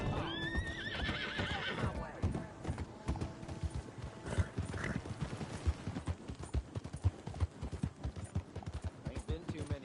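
Horses in the Red Dead Redemption 2 video game, with rhythmic clip-clopping hooves throughout and a high neigh early on, under scattered game sounds and voices.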